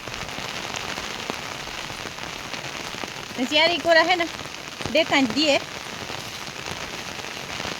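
Steady rain falls on a hard surface in a rural setting, a dense, even hiss that runs unbroken through the whole clip, with a couple of short spoken phrases near the middle.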